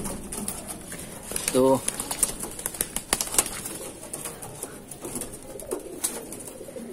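Madrasi pigeons of the Doyash Jira breed, a cock and its hen, coo and flap their wings in a loft, with a short burst of flapping and cooing amid scattered clicks and rustles while someone talks over them.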